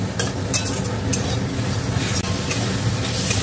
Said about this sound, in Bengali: এইবার এটাকে খুব ভালো করে একটু কষিয়ে নেব